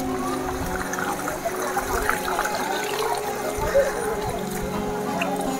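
Rainwater streams along a forest path near Shrivardhan in the monsoon, a steady close wash of flowing water that runs the whole time, with voices murmuring faintly in the background.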